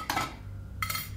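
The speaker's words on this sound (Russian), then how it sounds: "Позже сегодня вечером уборщица убирает посуду." Dishes and cutlery clink as a cleaning lady clears the table in the video game Lucius, two short bursts of clattering separated by a quiet pause, with no talking.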